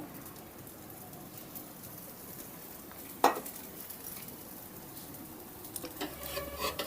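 Oil sizzling under a frying urad dal dosa on a hot griddle, a faint, even crackle with one sharp tap midway and slightly louder clatter near the end.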